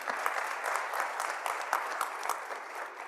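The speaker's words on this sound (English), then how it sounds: "Another round of applause, please." Steady, dense audience applause at a technology summit session on digital pasture management, many hands clapping together at an even level throughout with no voices on top.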